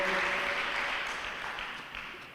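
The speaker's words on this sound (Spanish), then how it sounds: "Denle un aplauso al Señor, que se lo merece." A congregation at a Sunday church service applauds: soft, diffuse clapping heard from a distance, a steady wash that slowly fades, with faint voices mixed in.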